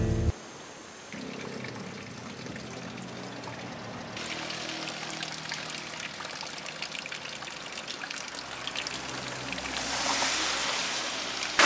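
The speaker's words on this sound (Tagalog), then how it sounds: "Mukhang ito na yung hinahanap nating tubig." Water flowing steadily in an outdoor river or stream, a continuous pouring, trickling rush that swells louder partway through and stays close and unbroken with no talk.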